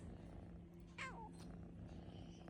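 A Persian kitten lets out a single brief, faint meow at close range, with a low steady room hum underneath.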